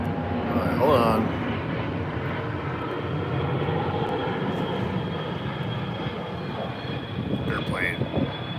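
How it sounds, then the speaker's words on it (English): An airplane passes overhead outdoors, a steady low engine roar that holds through the whole stretch, with brief voices near the start. "You caught us just in time for an airplane."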